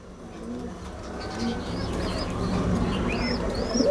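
Pigeons coo and chirp in a loft among many birds, soft rising calls repeating over a steady murmur of background noise that slowly grows louder, with no talk.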